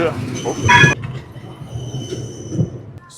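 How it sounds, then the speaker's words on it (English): A train at Amsterdam Central station squeals on the rails with a brief high metallic screech early on, then settles into a low rumbling hum, with faint voices in the background. "we are going to check the train station"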